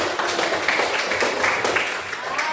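A classroom of students claps their hands together in a dense, steady burst of applause that runs evenly throughout, with a voice or two mixed in.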